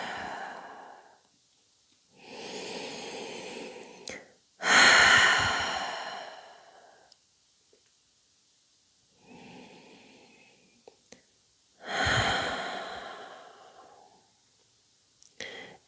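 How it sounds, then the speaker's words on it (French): Slow, deep exhalations through the mouth during a prenatal yoga session come in several long, breathy waves separated by quiet pauses, some softer and some strong and close. "Et expirez bien par la bouche."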